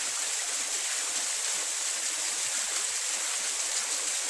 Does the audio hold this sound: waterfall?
yes